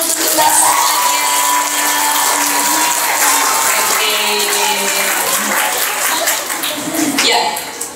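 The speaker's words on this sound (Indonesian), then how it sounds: "Tepuk tangan untuk kita semuanya." Audience applause fills a seminar hall on building self-confidence, a steady, dense wash of clapping that stays loud and even for the whole stretch without letting up.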